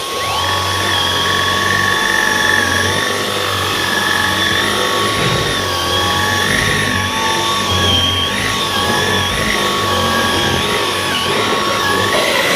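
A Dyson V11 cordless vacuum cleaner fitted with its hair attachment, picking up long hairs, gives a loud, steady, high-pitched motor whine and airflow roar that runs unbroken and close throughout.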